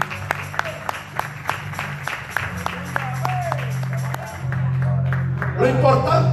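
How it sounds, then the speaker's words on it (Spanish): Church congregation clapping in sparse, separate claps spread across the room, with a hum of voices and talk running underneath throughout. "Un aplauso al Señor"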